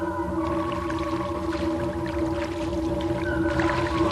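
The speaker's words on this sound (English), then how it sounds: "records the dolphin's verbal responses to his varied melodies" Dolphins whistle and chirp underwater in response to synthesizer melodies, their high tonal calls overlapping steady electronic tones in a dense, continuous mix.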